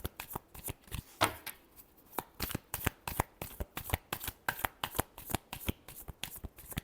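Tarot cards are shuffled by hand in quick, rhythmic riffles, a rapid run of crisp close-up flicks and slaps that repeats steadily with no talking over it.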